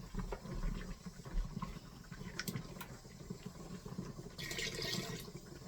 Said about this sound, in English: I'm probably gonna want to put some more liquid in this,